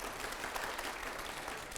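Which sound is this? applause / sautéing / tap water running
applause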